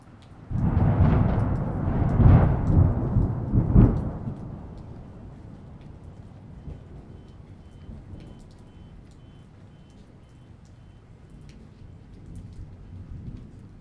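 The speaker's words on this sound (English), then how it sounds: "So in this case, we have this thunder sound." Thunder with steady rain: a loud, rumbling roll of several heavy cracks for the first few seconds, then a long, fainter rain hiss with dripping raindrops on surfaces carrying on alone.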